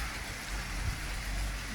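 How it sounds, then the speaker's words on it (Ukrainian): Night rain over Saltivka in Kharkiv in November makes a steady, dense hiss of pattering drops, fairly close and uniform throughout with a low rumble underneath and no voices. "Чуєте, як дощик шумить."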